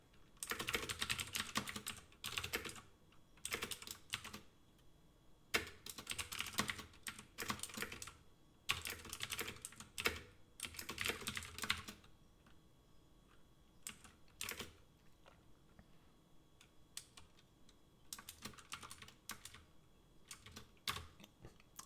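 Code is typed on a computer keyboard in rapid bursts of clattering keystrokes separated by short pauses, close and fairly quiet, with no speech.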